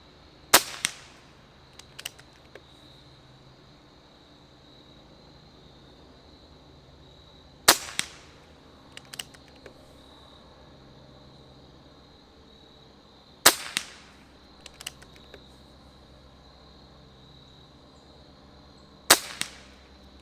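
A Benjamin Cayden air rifle firing FX 18-grain pellets: four sharp, loud cracks spaced several seconds apart, each followed by faint mechanical clicks, over a quiet steady background hum.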